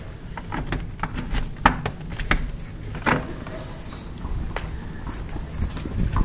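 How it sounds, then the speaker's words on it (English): A horse pulling a buggy clip-clops at an uneven trot on pavement, moderately close, with a steady background hum and no talking. "Like I said, horse and buggy."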